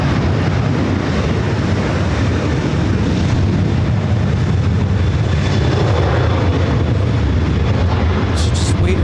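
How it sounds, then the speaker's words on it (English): Air Tahiti Nui Boeing 787 Dreamliner taking off at Los Angeles airport, a loud steady broadband jet roar sustained throughout with wind buffeting the microphone. "The beautiful Air Tahiti Nui Dreamliner up next for takeoff."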